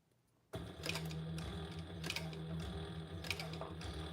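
A sewing machine stitches a bag at a slow, steady pace. Its motor whirs and the needle ticks rhythmically and close after a quiet start, continuing evenly to the end with no talking.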